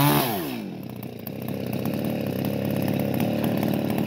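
An Echo 381 chainsaw, a 39.6 cc Japanese saw with a 50 cm bar, fires up with a rising sputter and settles into a loud, buzzing idle close by.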